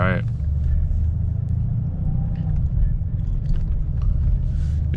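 A 500 hp Mercedes-AMG in race mode pulls away from an underground garage, its engine rumbling low and steady throughout, with a voice talking over it.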